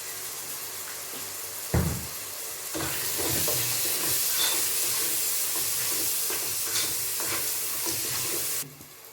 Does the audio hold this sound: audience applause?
no